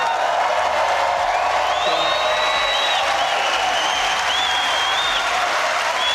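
A large rally crowd at a 2024 political campaign event applauds and cheers steadily, a dense, continuous wash of clapping with occasional high whoops and whistles rising above it throughout.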